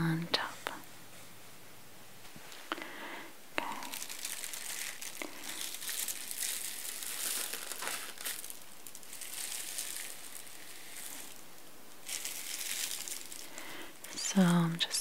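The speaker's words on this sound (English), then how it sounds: "now I will get some tissue paper to place on top" Soft crinkling and rustling of tissue paper being handled while wrapping a gift in a bag, quiet and close, with intermittent whispering over parts of it.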